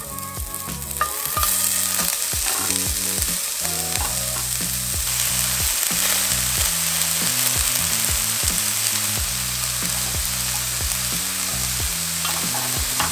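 Bellflower root roasting dry in a pan with no oil, a loud continuous crackling hiss up close, punctuated by regular knocks and shuffles as the pieces are turned and pressed, with a steady low hum underneath.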